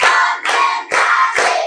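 Four bursts of hand clapping from a class, spaced evenly in a steady counted rhythm, loud and close with brief gaps between each group of claps.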